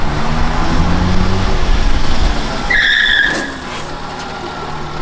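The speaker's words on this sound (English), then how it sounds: "Brakes work!" A used delivery truck brakes to a stop, loud tyre and road rumble followed by a short high brake squeal, then the engine settles into a steady idle.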